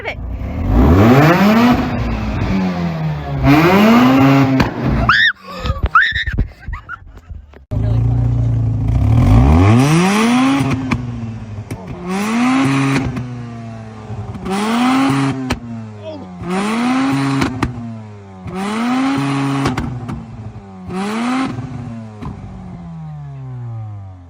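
A Mazda RX-7 FD engine is revved hard again and again, about nine sharp rising and falling blips, loud and close, with a brief clattery break midway.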